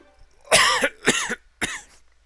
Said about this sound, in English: There's that scratchy cough again.